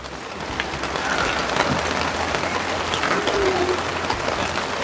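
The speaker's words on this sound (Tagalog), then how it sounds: "grabe, ang lakas ho talaga ng ulan" Heavy rain pours down steadily on crops in a dense, loud roar of drops drumming on a surface, continuous throughout.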